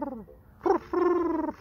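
A person's voice imitating the call of a wood pigeon, giving soft hooting coos: a short falling note, a pause, a brief note, then a longer sustained coo, heard up close and alone.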